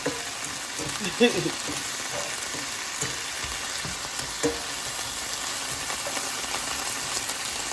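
Vegan sloppy joe mixture cooking in a non-stick electric skillet gives a low, steady sizzle with occasional soft knocks and stirring taps, fairly quiet.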